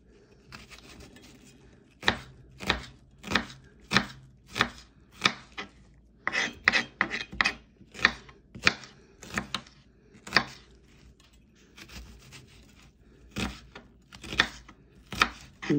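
A knife chops vegetables for stuffed vegetables on a cutting board, giving a long run of crisp, closely spaced strikes with brief pauses between bursts, close and fairly loud with no talking.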